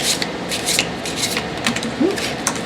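Tarot cards shuffled by hand in a series of quick, crisp riffling bursts that sound close and fairly loud, with no talking.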